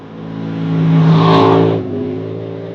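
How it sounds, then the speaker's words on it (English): A brand-new Triumph TR7 V8 rally car, built for the Roger Albert Clark Rally, revs its engine up close: a loud, throaty rise that holds briefly, then drops back to a steady idle, with no voices. "this is the Triumph TR7 V8 I'm going to be driving on this week's Roger Albert Clark"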